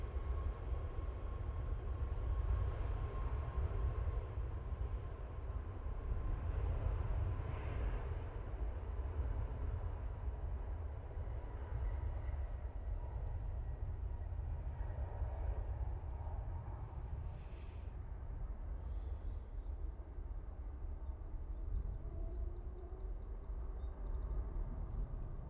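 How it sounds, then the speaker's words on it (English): A Ryanair jet departs Manchester Airport from an intersection, a low steady engine roar heard from a distance, rumbling on for the whole stretch with faint tonal whine above. "Ryanair now departing, taking the intersection."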